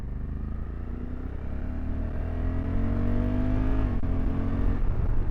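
A Honda CRF1100 Africa Twin DCT motorcycle accelerates in second gear, its engine note climbing steadily and loudly up a lane, with a brief dip near the end.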